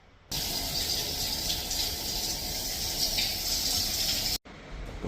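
Shower water running steadily in a truck stop shower stall, a continuous broad hiss close by that stops abruptly near the end, followed by quieter room noise.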